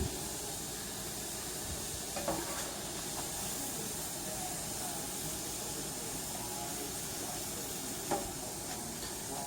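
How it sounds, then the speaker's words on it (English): Steady bubbling hiss of a pot of green chile stew at a boil, constant and close, with a couple of faint clinks breaking through. "it's been boiling for about 5 minutes or so"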